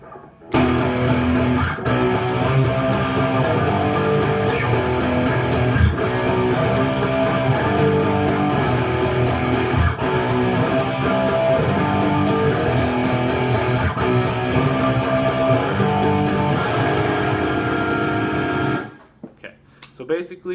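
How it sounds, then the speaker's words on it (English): Guitar playing the four-chord bridge of a song: loud, full, distorted strumming that rings steadily for about nineteen seconds before cutting off abruptly. "Then you're going to go into a bridge section, which is just 4 chords, and it's going to sound like this."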